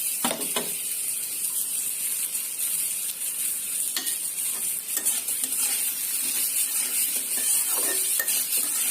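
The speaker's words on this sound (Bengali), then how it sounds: "নিয়ে চপগুলো এখন ভেজে নেব আমি" Chops frying in a pan give off a steady, loud, close sizzle throughout, with occasional scrapes and clicks of a utensil, and no voices.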